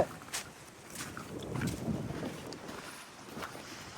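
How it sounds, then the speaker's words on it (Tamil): Strong wind blows outdoors in the countryside, buffeting the microphone with uneven gusts that rise and fall in a low rumbling rush, with faint rustling. "காத்து ஓவர் அடிக்குதுல்ல"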